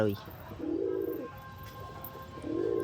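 Pet pigeons cooing while eating grain, two soft drawn-out coos separated by a pause, at moderate level with faint background noise.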